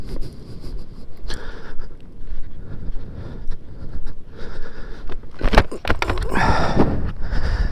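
Strong gusts buffet an outdoor spot during a motorcycle photo rally, a loud roaring rush with heavy microphone wind noise that swells and peaks near the end.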